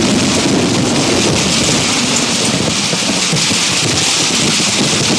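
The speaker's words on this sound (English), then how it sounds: "Thunder strikes." Steady heavy rain pours down with a low rumbling thunder underneath, a dense constant wash of noise throughout.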